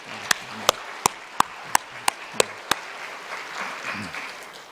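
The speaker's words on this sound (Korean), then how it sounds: "한번 박수해 볼까요?" A church congregation at an anniversary worship service claps in a sharp, evenly spaced series of about eight loud, unison claps, then settles into a soft murmur of scattered noise.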